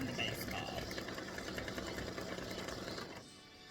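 An embroidery machine stitching red thread on a baseball design for a patriotic mug rug, with a steady, close, rapid mechanical whir that runs without a break and eases off near the end.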